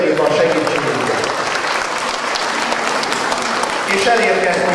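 An audience at a school running race event in Pásztó applauds the helpers with a dense, sustained burst of clapping, steady throughout with a brief swell near the end, while a voice speaks over it.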